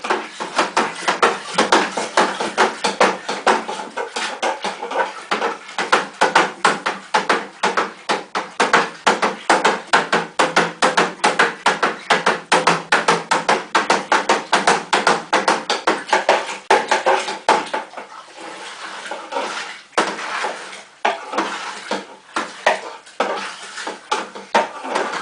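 Home-brewed wine being mixed in a bucket filled to just over 23 litres, with steady repetitive sloshing and knocking strokes of stirring, close and fairly loud, continuing throughout without speech.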